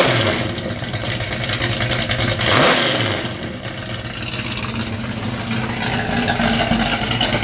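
Pontiac 455 V8 in a Pontiac Le Mans rumbles at idle, then is revved in a quick rising and falling blip before settling back to a loud, close, lumpy idle, with no talking.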